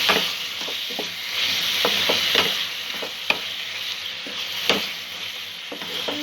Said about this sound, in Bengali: মশলা ভালো করে কষা হয়ে গেছে, তেল ছাড়তে শুরু করেছে।